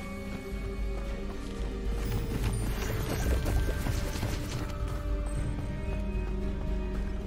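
Rushing waterfall in Hogwarts Legacy, a dense continuous roar of falling water with splashy texture, loud and steady throughout with no talking.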